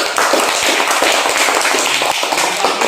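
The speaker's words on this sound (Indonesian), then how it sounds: "Berikan tepuk tangan untuk kelompok 1" Classmates in a primary school lesson applaud group 1 with a loud, lively run of quick, sharp handclaps from a small crowd, continuous and close.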